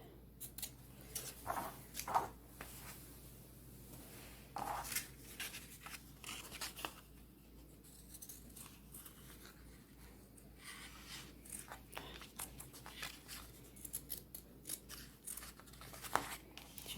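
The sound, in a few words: sharp scissors cutting fabric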